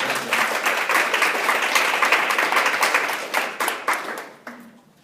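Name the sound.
applause at a conference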